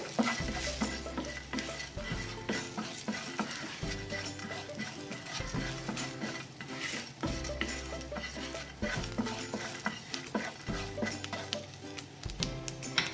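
Ginger and a tempering of curry leaves frying in a pan for a snake gourd yogurt chutney: a dense, continuous sizzle with rhythmic stirring scrapes, loud and close, with no talking.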